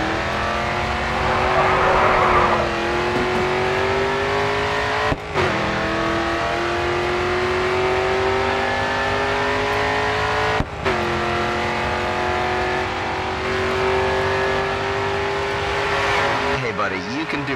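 Race car engine in the Grid 2 racing game roaring loud and steady at full throttle, pitch climbing through gear shifts with brief dips near 5 and 11 seconds, under continuous game music and commentary.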